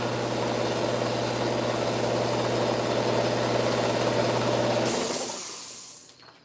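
An air compressor runs with a loud, steady droning hum and mechanical rattle, then shuts off, leaving a brief hiss that fades to quiet.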